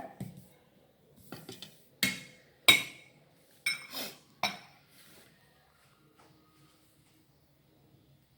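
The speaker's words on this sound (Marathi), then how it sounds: "थोड्या थंड झाल्यावर आपण या वड्या कापतो" A knife cuts sesame seed sweet squares (til vadi) on a plate or tray, giving about half a dozen sharp, close clinks and taps spaced irregularly, fading into near silence.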